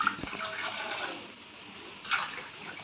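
Water poured from a tumbler into a pot for making masala tea, about one and a half tumblers, a soft close splashing pour with a brief gush near the start and another near the end.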